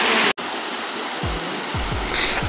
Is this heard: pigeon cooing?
no